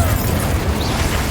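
A Confringo explosion spell goes off in Hogwarts Legacy video game, a loud, sustained booming burst of broadband noise filling the short moment, close and dense with no talk over it.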